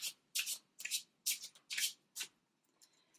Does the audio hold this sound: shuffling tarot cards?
yes